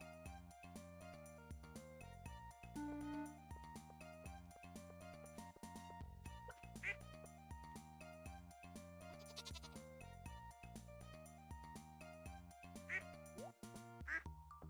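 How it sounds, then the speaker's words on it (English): Honking animal in the Stardew Valley video game, heard as short nasal bleat-like calls over continuous game music and chimes, repeating at intervals through the scene. "Thought I heard someone over here honking"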